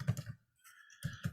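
Typing on a computer keyboard while entering text in GIMP: two short bursts of quick, close key clicks separated by a brief silent gap.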